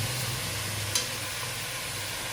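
Onion frying in a pan over strong heat for a Senegalese thiéboudienne, a steady close sizzle with a brief stir partway through, no talking.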